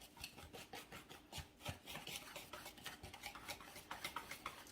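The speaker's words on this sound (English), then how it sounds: "We're going to whisk this together." Batter for French toast or pancakes whisked briskly in a bowl, a steady run of quick scraping, rubbing strokes with faint clinks from the whisk against the sides, close and moderately quiet.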